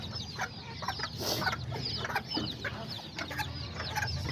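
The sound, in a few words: hens and baby chicks clucking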